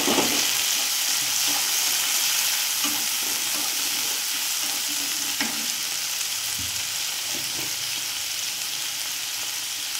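Chopped tomatoes hitting a pan of golden fried onions for baingan bharta, a bright sizzle that starts strong and settles into a steady hiss, with occasional scrapes and taps of stirring.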